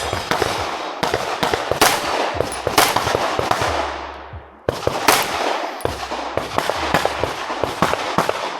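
Pistol shots ring out in rapid strings at a USPSA practical shooting stage, sharp and loud, with a brief pause between two bursts and no speech.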